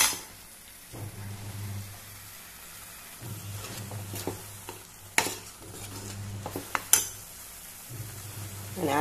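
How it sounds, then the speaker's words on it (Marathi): Goan-style egg curry masala is stirred in a pan, with a soft sizzle and frequent scraping and clinks of a spoon against the metal, close and intermittent. "एक अर्धा मिनिट सुमार अशें मिक्स करीत रावपाचे"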